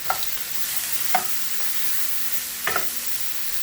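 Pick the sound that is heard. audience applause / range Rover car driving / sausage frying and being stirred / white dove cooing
sausage frying and being stirred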